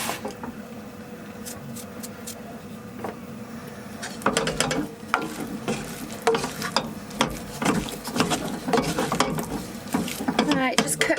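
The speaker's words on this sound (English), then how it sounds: "just cook the flour off for a minute" Flour cooks in a pan for a stew with dumplings, heard as a soft sizzle that becomes steady, rhythmic stirring and scraping partway through, fairly close and with no talking.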